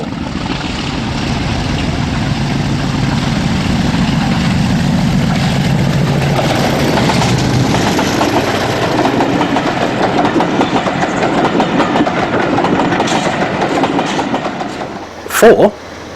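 Class 50 diesel locomotive 50007 working hard past Heywood on the East Lancashire Railway, a loud sustained engine roar with rail clatter that builds and lingers for most of the pass before fading, with a brief sharp burst near the end.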